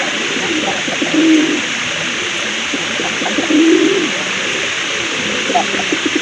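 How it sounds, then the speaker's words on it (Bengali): Two soft cooing calls from fancy pigeons at a pigeon sale rise above a steady background hiss and faint murmuring. "আরেক জোড়া কবুতর দেখেন খুবই সুন্দর কোয়ালিটি সম্পন্ন কবুতর"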